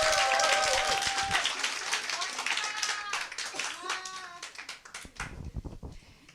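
An audience at a lecture claps for a speaker, starting as dense applause that thins to scattered claps, while voices and children talk underneath.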